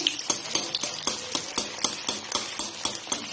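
Chicken fries deep-fry in hot white oil in a wok over a medium flame, a steady close hiss broken by quick regular clicks and taps throughout.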